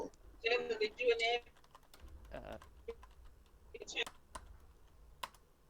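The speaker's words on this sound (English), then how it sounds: "And I'm typing up, I guess, the credits." Clicks of a computer keyboard being typed on in short bursts, close and fairly quiet, with a voice talking over the first part.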